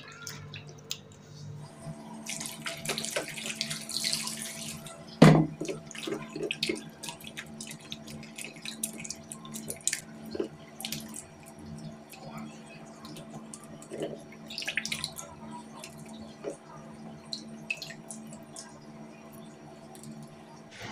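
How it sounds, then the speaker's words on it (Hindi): Turmeric- and salt-soaked raw banana slices being rinsed by hand in water for chips: intermittent splashing, dripping and wet squishing in a kitchen, with a voice speaking throughout and one sharper knock partway through. "इस पानी में से डायरेक्ट निकालना ही नहीं, इसको हमें अब अच्छे से वॉश कर लेना है।"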